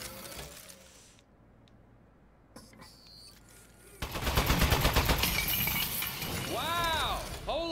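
Turret firing in the video game Aperture Desk Job: a loud burst of rapid mechanical shots and shattering clatter starting midway, continuing for several seconds with whirring electronic chirps near the end, preceded by quieter game ambience.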